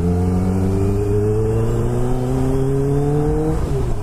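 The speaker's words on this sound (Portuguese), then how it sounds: "a moto é rápida demais, mas dá pra você andar de boa também" A Kawasaki Ninja H2 sport motorcycle engine drones at high revs, pitch slowly rising as it accelerates steadily, loud and close, with no talking.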